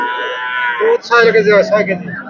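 A pregnant dairy cow at a cattle market lets out a loud, drawn-out moo close by, with a second deeper moo right after.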